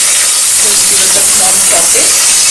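Onions hit a hot pan of oil with green chilies and curry leaves while veg pulao is made in a pressure cooker. A loud, steady, close hiss of frying fills the whole moment.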